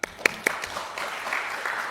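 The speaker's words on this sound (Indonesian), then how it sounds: "Terima kasih Pak Julius Ibrani, kita kasih tepuk tangan." A few sharp, separate claps ring out near the start, then light, thin applause carries on at a low level in a parliamentary commission hearing room with advocates present.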